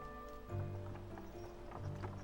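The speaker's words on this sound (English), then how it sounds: "A funeral procession advances slowly along the road, the mourners surrounding a horse cart bearing a coffin" Slow clip-clopping hooves of a horse drawing a funeral cart with a coffin along a road in the video game Lost Odyssey, steady plodding steps under a soft musical backdrop and quiet ambience.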